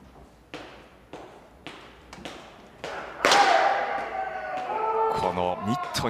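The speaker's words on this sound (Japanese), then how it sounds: "このミットに入るバシーンという音" Baseball pitches smacking into a catcher's mitt in a bullpen, a series of sharp, evenly spaced pops, then a louder crack followed by crowd noise and talk.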